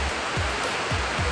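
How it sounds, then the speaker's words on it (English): Heavy rain pours in a Costa Rica rainforest as a steady, dense hiss of drops with no break or change in level across the short stretch. "there's a lot of rain"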